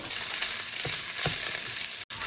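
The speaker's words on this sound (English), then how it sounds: "this is starting to sear" Chicken sears in Tuscan herb olive oil in a hot pan, giving a loud, continuous close sizzle with a couple of soft thumps and one sudden brief dropout near the end.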